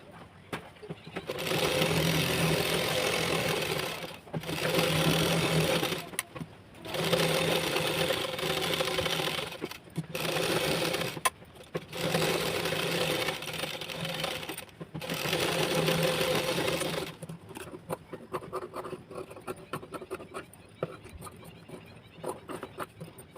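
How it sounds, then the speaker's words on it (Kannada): A sewing machine stitches around the edge of a blouse lining piece, whirring loudly in several steady runs separated by brief pauses, then falling quiet near the end. "ಈ ಪಾರ್ಟ್ ಕೂಡ ನಾನು ಸುತ್ತಲೂ ಸ್ಟಿಚ್ ಹಾಕಿ ರೆಡಿ ಮಾಡ್ಕೋತೀನಿ"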